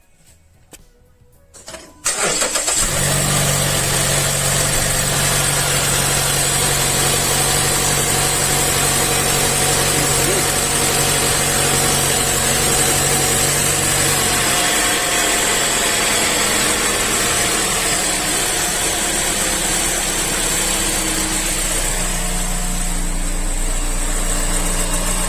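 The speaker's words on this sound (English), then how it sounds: "I prefer to start the engine just to check if everything is okay. So I'm gonna start the engine now." A Mazda Skyactiv 2.5L engine cranks briefly, catches and settles into a steady, loud idle that hums on evenly and close by, with no talking over it.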